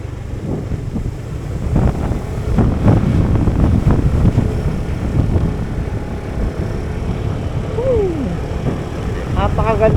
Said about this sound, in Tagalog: Grabe ang lakas ng hangin, par.